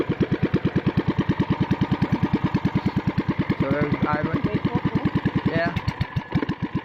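A Sumo Rato racing engine on a Paradise trimaran idles smoothly with a steady, even chugging pulse, close and loud, while someone briefly speaks over it.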